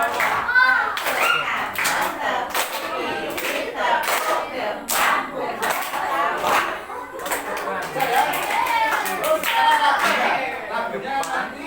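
Schoolchildren at an elementary school clap in a rhythmic clapping game, quick bursts of hand claps mixed with lively children's chatter and an adult voice talking over them.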